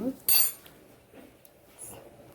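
Cooked beetroot pieces being put into a metal mixer jar, a brief bright clink of spoon on steel followed by softer scraping and light knocks, with a voice talking nearby.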